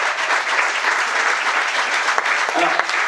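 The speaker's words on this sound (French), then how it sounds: "On peut l'applaudir bien fort." Sustained audience applause for a performer fills the room, dense and steady throughout, with a brief voice or tone surfacing near the end.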